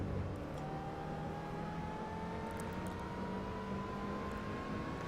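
Car engine in the Assetto Corsa racing game, a steady rising whine as the revs climb smoothly over several seconds, sustained and fairly quiet with no speech over it.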